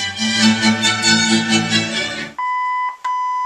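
Indistinct tonal sound from a 1962 Volkswagen Bug's original AM radio plays, then cuts off, followed by a clear electronic beep held for a moment, a brief gap, and another sustained beep.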